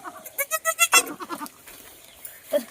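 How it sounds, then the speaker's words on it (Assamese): A young goat kid bleats in a run of short, rising calls that grow louder, then trails off into quieter rustling with one more faint bleat near the end. "এইয়া ছাগলী পোৱালি"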